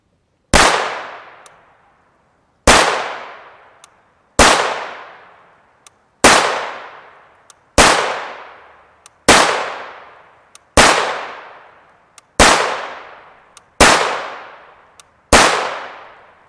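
An FN 5.7x28mm PDW with an 8-inch barrel fires Hornady 40-grain VMAX Black rounds outdoors: ten loud, sharp, single shots spaced about every one and a half seconds, each trailing off in a long echo.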